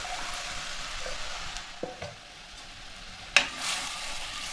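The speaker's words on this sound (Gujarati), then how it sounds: "આપણે બધી કઢી નાખી દઈશું" Kathiawadi kadhi hitting a hot tempering of sesame and fenugreek seeds, soft frying crackle with a couple of knocks, then a sudden loud splash and burst of sizzling that fades back down.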